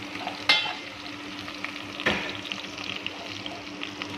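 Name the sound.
garlic sautéing in a pan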